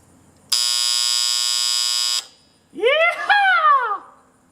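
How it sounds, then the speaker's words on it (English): Septic system alarm going off as its float is lifted, a loud harsh buzz lasting under two seconds, then a person's excited voice right after. "the alarm's going to go off."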